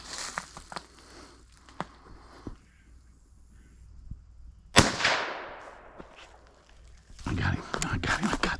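A single sharp gunshot at a groundhog outdoors cracks out loud and close midway, its decay trailing off, with a few light rustles and footstep sounds before it and louder shuffling and handling noises afterward.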